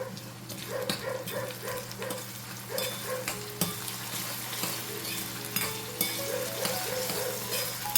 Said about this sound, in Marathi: तेलावर आपला कांदा चांगला परतून झालेला आहे